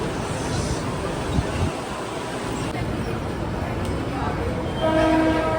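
A Mumbai local train rumbles along steadily near Dadar station with a continuous rushing clatter, and a horn-like tone sounds near the end; faint voices murmur underneath.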